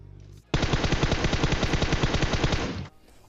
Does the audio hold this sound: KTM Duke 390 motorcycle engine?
no